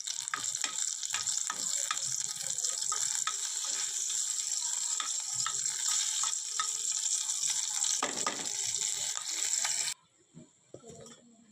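Coarsely ground ginger, garlic and green chili paste frying in a pan for a spicy upside-down vada pav, a loud steady sizzle that crackles for about ten seconds, then cuts off to near silence.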